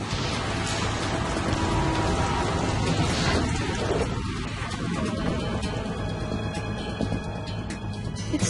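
Steady heavy rain pours in the Metal Gear Solid 2 game, a dense, loud wash of drops on surfaces with a low rumble beneath, continuous throughout with no voices.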